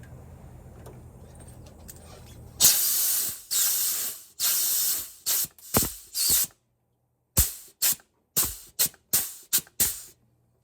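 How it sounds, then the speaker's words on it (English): An air-powered grease gun fires in a series of loud, sharp hissing bursts, one long spray followed by about a dozen short spurts in quick succession, with quiet gaps between them and no talk. "my wife got me an air-powered grease gun"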